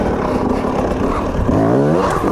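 TM EN 300 dirt bike engine revving hard on a desert trail, a loud close roar rising in pitch toward the end as the throttle opens, with no talking.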